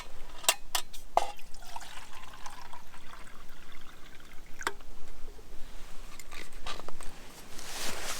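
Water pours steadily into a titanium canteen cup outdoors, a continuous trickling stream with a few sharp clinks, up close and alone.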